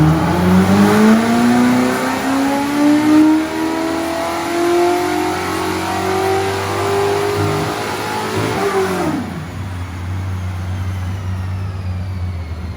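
GV NASCAR race car engine on a dyno. It climbs in a long, loud, sustained rev, peaks, then drops sharply back to a rough idle rumble.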